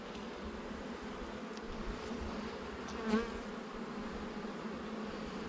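Honeybees and drones droning steadily inside an opened beehive, a thick close hum of many insects, with one nearer buzzing pass swelling briefly partway through.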